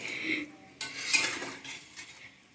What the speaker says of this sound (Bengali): দেখুন একটু হালকা নেড়ে দেবো।